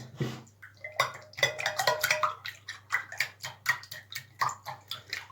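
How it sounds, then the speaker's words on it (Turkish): Three eggs being whisked by hand in a bowl for a börek, giving quick, rhythmic, close clinks of the whisk against the bowl that repeat steadily throughout. "3 tane yumurtamız. İyice çırpıyoruz."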